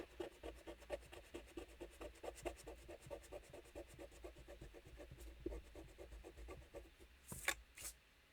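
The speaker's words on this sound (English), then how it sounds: "But just to show you that this foil comes away, I'll use the mono sand eraser again" A MONO sand eraser rubs hot foil off paper in quick, rhythmic scrubbing strokes, soft and close, with a couple of louder scrapes near the end.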